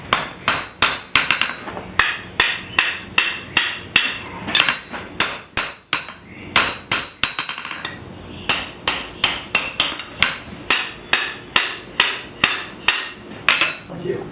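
A blacksmith's hammer strikes metal on an anvil in rapid, ringing blows, close and loud, in quick bursts with brief pauses between rounds, during a smithing lesson at a state park fort.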